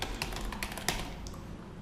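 Quick keystrokes on a computer keyboard as text is entered into a Tkinter entry widget, an irregular run of close, crisp clicks with one sharper tap near the middle, no voices.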